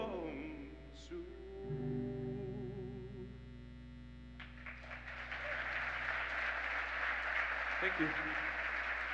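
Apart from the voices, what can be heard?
audience applause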